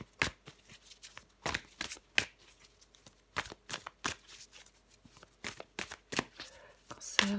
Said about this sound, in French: je prends encore une carte pour vous, les cancers du 29 janvier au 4 février